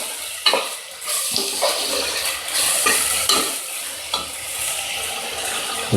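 Curry leaves and coriander stirred into a frying nalli bone gravy: spoon scrapes and clacks at an irregular rhythm over a bubbling sizzle, close and fairly loud, with no talking.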